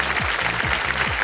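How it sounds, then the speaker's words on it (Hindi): Studio audience applauding on a televised quiz show, a dense steady wash of clapping that fills the whole moment at close range, with a low repeating musical tone underneath. "ताली पहले ही बजी है।"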